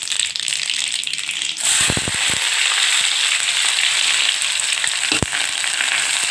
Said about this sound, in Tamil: கடுகு பொரிஞ்சதும் நம்ம கட் பண்ணி வச்சுருக்கிற வெங்காயத்தை போட்டு நல்லா வெங்காயம் லைட் ப்ரௌனாக வர வதக்கணும்.